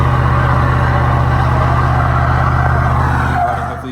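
Tuned 2004 Chevrolet Silverado 5.3 pickup on wet road with 3.42 gears and 22x14 wheels: a loud, close V8 engine drone held steady, then easing off and fading slightly at the end.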